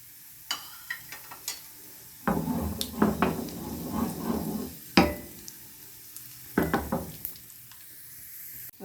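Red chili and cumin dropped into hot oil for a tadka for mung and masoor dal, giving a sudden loud sizzle that crackles and fades, then a second brief burst of spattering, close by.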